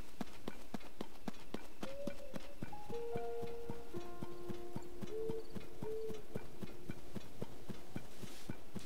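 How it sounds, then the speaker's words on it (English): Horses' hooves clip-clop in a steady, even rhythm throughout, moderately loud, over a backdrop of soft sustained musical tones in Zelda: Tears of the Kingdom. "There's the horses."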